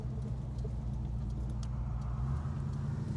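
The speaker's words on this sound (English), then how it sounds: "kicks down a gear, great V8 rumble, shifts smoothly" A 1965 AMC Marlin V8 rumbles steadily from inside the cabin while driving, a continuous low engine drone with a faint jingle of keys.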